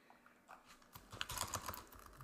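Quiet typing on a computer keyboard, starting with faint scattered taps and building into a quicker irregular burst of keystrokes, close and soft.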